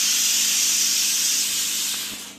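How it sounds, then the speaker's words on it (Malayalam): A kitchen pressure cooker vents steam in a steady, loud, broad hiss that holds for about two seconds and fades slightly at the end, with no talking over it. "കേട്ടല്ലോ, കുക്കർ"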